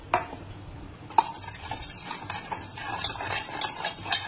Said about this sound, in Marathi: थोडं जिरं पावडर आणि थोडासा चाट मसाला। हे सर्व मिश्रण आपण एकत्र करून घेतले